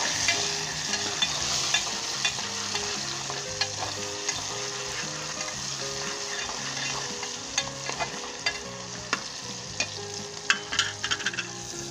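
Arbi (taro root) curry with green chilies sizzles steadily in a pan as it is stirred, with sharp spoon scrapes and clicks scattered over the frying hiss and no voices.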